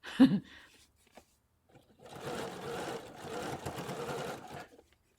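After a short thump and brief silence, a sewing machine runs in two sustained stretches of rapid stitching while sewing small capri pants for an 18-inch doll, steady and close, with a pause between runs.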